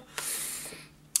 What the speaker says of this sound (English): So I'm using the Scandinavia spray.